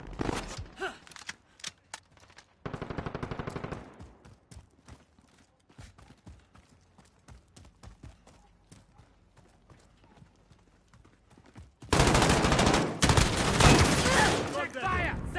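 Gunfire from the video game Call of Duty: Modern Warfare: loud scattered shots and bursts run throughout, rising into a dense sustained barrage near the end, with game voices in between.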